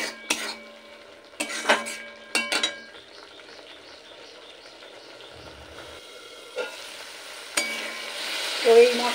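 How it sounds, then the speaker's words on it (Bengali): Mustard spice paste is sautéed in a pan for a mustard fish curry. A utensil scrapes and knocks against the pan in scattered bursts over a faint, low sizzle, with quiet gaps between the strokes. "এবার সমস্ত মশলা একসাথে আবারও 2 মিনিট একটু কষিয়ে নেব"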